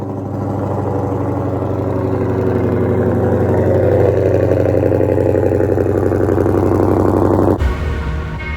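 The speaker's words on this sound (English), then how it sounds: "It's cold start time." A cold-started muscle car engine, a Shelby GT500 or Dodge Challenger Hellcat Redeye, rumbles loudly and steadily at close range, a deep idle that rises slightly before cutting sharply near the end.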